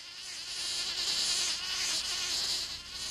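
A bee in a children's stone-age cartoon buzzes in a steady, close, high-pitched drone that swells slightly and holds for a few seconds with no talking.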